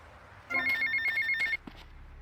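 A payphone ringing in GTA Vice City, a bright electronic telephone trill lasting about a second at moderate loudness, followed by a short click.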